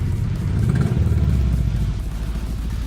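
A Subaru, freshly fitted with a turbo conversion, rolls along slowly with a low, uneven engine rumble and faint clatter, close and steady throughout.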